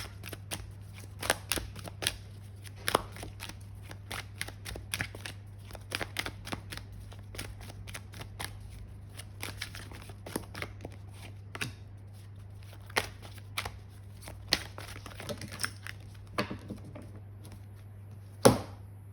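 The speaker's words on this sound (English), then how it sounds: "These are the Earth Magic oracle cards." Earth Magic oracle cards being shuffled by hand, a series of soft, quick riffling snaps and taps at irregular intervals over a low steady hum, with a sharper knock near the end.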